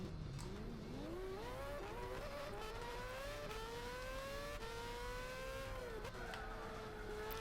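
A race car engine in Gran Turismo 6 on PS3 revs loud and continuous, pitch climbing through repeated gear changes with a brief drop near the end, with faint tire noise underneath.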